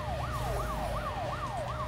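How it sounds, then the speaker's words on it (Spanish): Police car sirens in the Need for Speed Most Wanted video game, a steady repeating wail cycling about every third of a second, loud and continuous over a low engine rumble. "Antes que vengan más coches patrulla."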